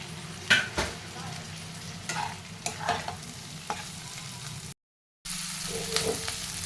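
Tomato, capsicum and green chilli being stirred in a frying pan, with a steady sizzle under repeated scraping strokes of a spoon, close and moderately loud, broken by a brief silent gap.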